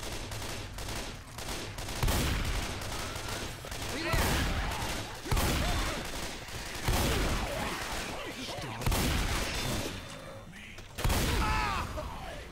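Repeated bursts of gunfire from guns in Left 4 Dead 2, loud, close volleys that come in waves over a steady backdrop of game noise, with a voice talking between the shots.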